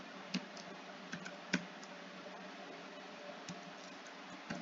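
Someone types on a computer keyboard while entering commands into Maple math software, making sparse, quiet, close-up key clicks at an uneven pace with short pauses between them.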